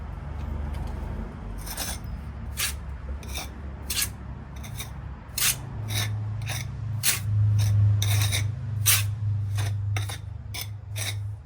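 A pointing iron rubs mortar into the joints of old brickwork during repointing. It gives repeated short gritty scrapes at an irregular pace over a low background rumble, close by and with no talk.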